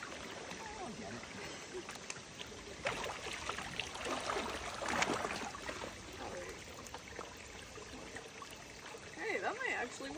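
Creek water trickles and splashes around a gold pan in a Pennsylvania stream, a soft continuous flow with brief louder sloshes, quiet and close, mixed with light handling noise.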